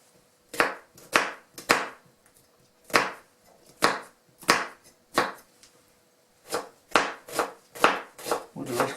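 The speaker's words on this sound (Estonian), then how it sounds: "Selle võiks ka tegelikult hästi peeneks hakkida." A knife chops an onion finely on a cutting board for a smoked-sausage pastry filling, with about seventeen crisp, close knocks in uneven bursts separated by short pauses.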